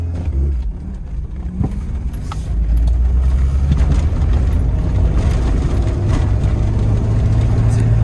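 A Shelby Dodge Daytona Turbo Z with a boost and vacuum fault runs close by, its engine note holding a steady, loud low rumble that swells slightly after a few seconds into a sustained pull.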